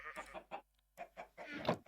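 Chicken clucking in the Minecraft video game: several short, close clucks in quick bursts, separated by brief gaps of silence.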